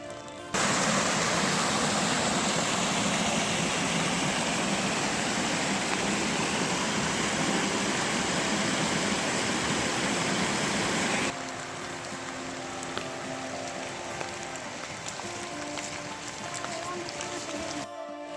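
A gentle rain shower falls on the Gerard Trail in fog as a loud, constant broadband rush that drops abruptly to a softer steady patter partway through.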